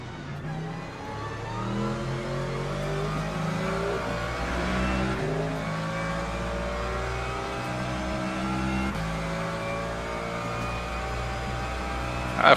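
Race car engines drone and rev steadily in Le Mans Ultimate as GT3 cars run close together during an overtake, a continuous loud engine tone rising and shifting in pitch throughout.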